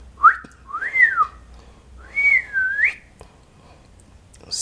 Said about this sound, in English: regular whistle